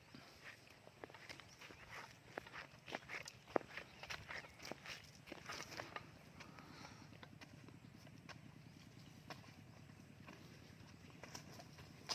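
Heavy, slow footsteps of a large animal tread over ground in a steady plodding rhythm, fairly close, with no one speaking.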